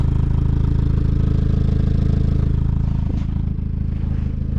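A Mazda Miata engine idles steadily, its small aftermarket exhaust giving a low, even rumble close to the microphone.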